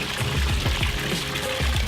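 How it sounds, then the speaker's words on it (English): A water feature in a remodeled house with brass and oak fittings pours and trickles steadily, close and fairly loud, with no voices over the flowing water. "This is what we call a water feature."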